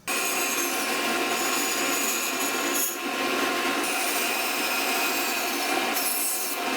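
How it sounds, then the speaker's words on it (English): Bandsaw cutting wood blanks to shape for turning a spoon and spatula, a steady continuous loud whine of the blade through wood with a brief dip midway, no talking. "We'll start by going over to the bandsaw and bandsawing these blanks to shape."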